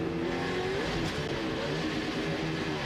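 NASCAR race car engine blowing up during the 2004 Banquet 400 at Kansas, a loud, steady roar of racing engines with a rising whine throughout, close and dense, with no voices.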